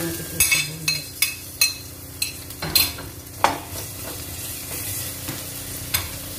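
Carrots, cabbage and onion for spring rolls fry in a pan under a steady sizzle, while a utensil stirs them in sharp, regular scrapes and clinks against the metal, close up.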